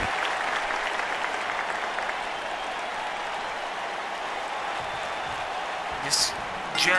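A Japanese arena crowd in the WWE 2K19 wrestling game roars and claps in a broad, continuous swell at the Japan Super Dome, staying loud and steady, with a brief sharp burst near the end.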